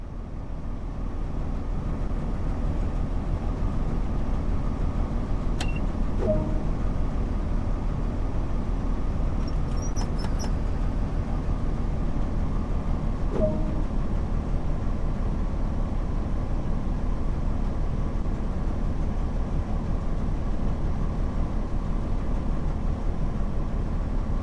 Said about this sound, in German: Bringen Sie zuerst den Zug in Fahrt.